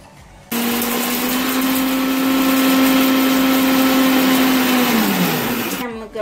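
A mixer grinder whirs loudly and steadily for several seconds with a strong motor hum, then winds down in pitch before stopping.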